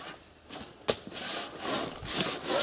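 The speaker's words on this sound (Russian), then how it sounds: "Ты понимаешь, Никита, почему не идет пила-то плохо так?" A hand saw cuts through wood with steady back-and-forth rasping strokes, close and fairly loud, each stroke rising and falling in an uneven rhythm.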